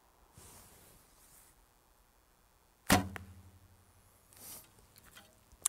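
Arrow released from an S&H Icaro ILF riser fitted with Uukha VX+ limbs: a single sharp, loud snap of the string followed by a short buzzing ring, then a distant thud, with quiet rustling before.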